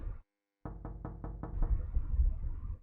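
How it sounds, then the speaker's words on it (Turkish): Knocking on a door in the horror video game No Customers Left, set in a console shop: a series of about five quick, evenly spaced heavy knocks after a brief silence, followed by a low rumbling ambience. "Aha kapı sesi geliyor yine."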